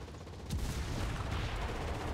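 Artillery shells exploding in the WWII shooter game Enlisted: a sudden heavy boom followed by a dense, sustained rumble of blasts and gunfire, moderately loud and continuous.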